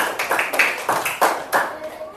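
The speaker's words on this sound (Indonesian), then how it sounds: "Tepuk tangan untuk kelompok 5" Audience clapping for a presenting group in a classroom setting, coming as a handful of separated bursts of claps at a steady rhythm, fairly close, with voices talking over them.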